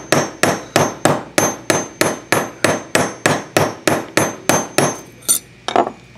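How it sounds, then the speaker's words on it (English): A big, junky heavy hammer strikes a metal block about fourteen times in a steady, even rhythm to texture it, each blow ringing sharply, then two softer, scattered taps follow. "we can take a big junky hammer and hammer directly into the block"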